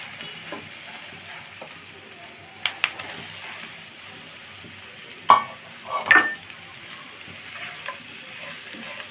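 Pieces of fried egg stirred into cooking spices in a pan, a faint constant sizzle with a few sharp knocks and scrapes of the spatula, close and with no talk.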